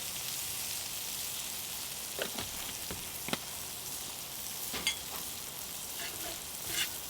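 Onions with a little curry powder sizzle in a pan for a Maine lobster roll filling, a steady close crackle with several sharp clicks and taps of stirring, and no voices.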